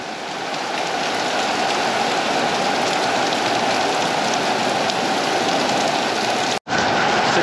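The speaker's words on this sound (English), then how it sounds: "All right, here comes the rain." Steady heavy rain pours down as a cold front sweeps through a garden, a dense, loud, unbroken hiss that cuts out briefly near the end before resuming.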